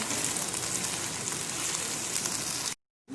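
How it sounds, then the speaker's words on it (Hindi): Mutton dal with green chillies frying in a pan makes a steady, rain-like crackling sizzle close up, then cuts briefly to silence before the sizzle resumes. "इसको थोड़ा सा हम करते हैं, भूनते हैं इसको थोड़ा सा।"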